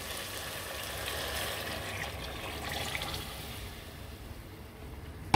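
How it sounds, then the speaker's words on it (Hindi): Two glasses of water poured into a pot of oil-fried white chickpeas for chana rice, a faint, steady rushing pour with a soft liquid hiss that eases off near the end, no voices present. "अब इसमें हम पानी ऐड कर लेंगे। 2 गिलास हमने पानी ऐड कर लेने।"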